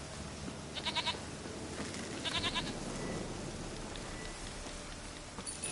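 Sheep bleat in The Witcher 3 video game, two short wavering calls over a steady patter of rain, moderately close, with a fainter bleat near the end.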